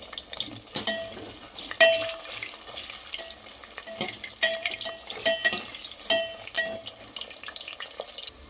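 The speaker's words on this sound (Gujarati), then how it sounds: "હવે આપણે સેમ કઢાઈમાં બટેટાને પણ ફ્રાય કરી લઈશું." Potatoes frying in a kadai for a tindora-potato curry, with a continuous sizzle punctuated by repeated sharp clinks and scrapes of a spoon against the metal pan.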